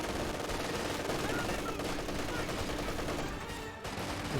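Sustained machine gun fire and battle noise from the video game Company of Heroes 2, loud and continuous with overlapping bursts, briefly dipping near the end.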